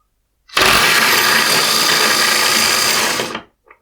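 A Parkside cordless angle impact wrench runs in one continuous burst of about three seconds, a loud high-pitched motor whine with a steady buzzing rattle that starts abruptly and winds down, with no talk.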